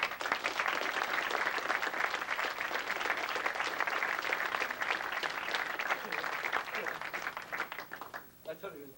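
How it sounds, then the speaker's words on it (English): Audience applause at a pressure-point martial arts seminar on Bassai kata: dense, sustained clapping from a roomful of people at steady volume, fading out near the end as a voice begins to speak. "Give him a round of applause."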